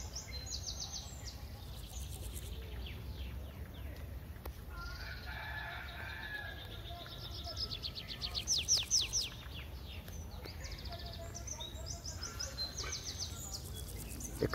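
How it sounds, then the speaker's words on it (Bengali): Birds call and chirp around a garden nursery used as a picnic spot, with a rooster crowing and fowl clucking among repeated bright bird calls over a steady low outdoor hum, no talking. "একটু অন্যরকম, সাথে পাখির করতাল, কিচিরমিচির শব্দ,"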